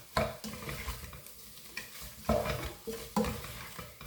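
Chicken fried rice is stirred in a pan after ground pepper goes in, with a series of scraping spatula strokes in an uneven rhythm over a faint sizzle, close and fairly quiet.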